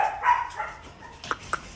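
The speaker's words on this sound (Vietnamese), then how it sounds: "Đây là đàn chó Doberman nha bà con." German Doberman puppies give short, high yips and barks, a few close bursts with faint whimpering in between.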